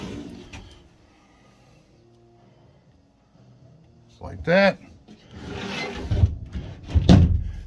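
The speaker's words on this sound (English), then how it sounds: "back here you got a double door closet that opens up" The double door closet in a 1970 Ford E300 Xplorer camper van is opened, giving a quiet creak followed by a couple of clattering knocks and scrapes. Someone speaks briefly over it.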